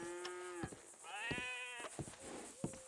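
Cattle bleats and lowing calls in Red Dead Redemption 2 repeat a few times, close and clear, over a steady background hum with faint game ambience.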